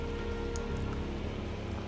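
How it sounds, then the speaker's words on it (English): Steady rain falls in the video game Ender Lilies: Quietus of the Knights, a continuous even hiss of drops on surfaces with a low rumble underneath, holding at a constant moderate level throughout with no voices. "The rain never let up."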